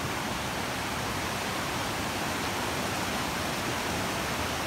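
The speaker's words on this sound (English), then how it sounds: "the waterfall from there, or the rapids I should say" Rushing river rapids beside old sawmill ruins in Perniö, Finland, a steady dense roar of churning water that fills the whole clip without a break.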